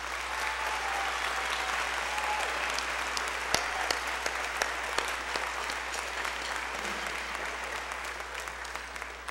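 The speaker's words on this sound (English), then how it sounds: "Can we give them all a round of applause" Sustained audience applause fills a school spring band concert hall, steady dense clapping with a few sharper claps standing out, no talk over it.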